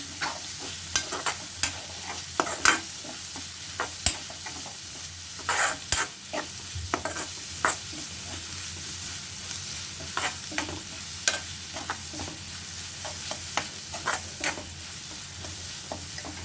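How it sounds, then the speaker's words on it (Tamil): Chopped onion sautéing in oil in a pan for samosa filling, a steady close sizzle with frequent spatula scrapes and stirring clatter throughout, no voices. "இப்போ ஒரு வெங்காயம் பொடியாக கட் பண்ணி வச்சுருக்கேன், அதை சேர்த்துக்கிறேன். வெங்காயத்தை நல்லா வதக்கிக்கலாம்."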